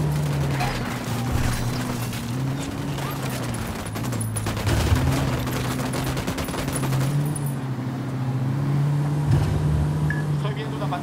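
Gunfire in the Ghost Recon Wildlands video game, bursts of rapid shots over a steady vehicle engine drone, with voices speaking at times.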